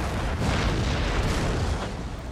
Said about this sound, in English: I suppose I better use my howitzers to focus fire one battery at a time